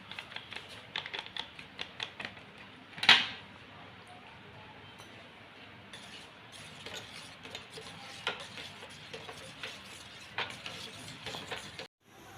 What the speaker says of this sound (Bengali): এই জাল দেওয়া দুধের মধ্যে পাউডার দুধটা যেটা গুলে রেখেছিলাম সেটা মিশিয়ে দিলাম।